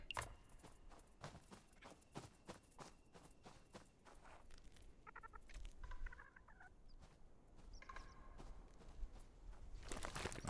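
A bird wakes inside a rock in the game Unexplored 2, giving a short burst of fluttering, chirpy warbling midway, faint and brief over a quiet background of soft taps and thumps.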